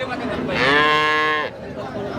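A dairy cow at a cattle market lets out a single loud, close moo lasting about a second, with faint background chatter around it.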